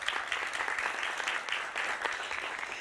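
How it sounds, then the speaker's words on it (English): An audience at a FINNEY media launch event in Barcelona applauds steadily for Moshe Hokek, the clapping dense and even throughout at moderate level. "Another round of applause for Moshe Hokek"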